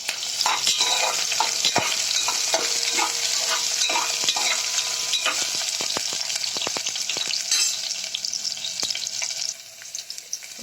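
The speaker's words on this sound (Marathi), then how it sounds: "मध्यम आकाराचा कांदा कट करून घेतलाय, तो घालायचा. नंतर हा परतून घेऊयात व्यवस्थित" Chopped onion hits hot tempering oil in a pot for moong dal khichdi, sending up a loud, dense, crackling sizzle with scattered sharp pops and spatters that continues steadily and eases slightly near the end.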